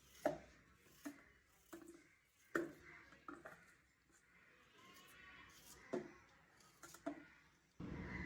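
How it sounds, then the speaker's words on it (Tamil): A knife chops purple yam, Jaffna rasavalli kilangu, into small pieces on a board, giving sharp, close, separate thuds at an uneven, unhurried pace in a quiet room. "சின்ன சின்ன துண்டாக வெட்டி எடுக்கிறது தான்."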